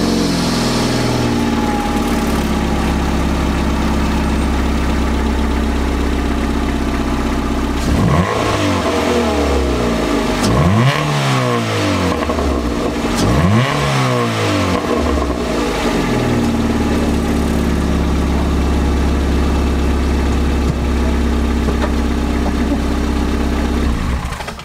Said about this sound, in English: I'll show you what a blow-in exhaust would sound like.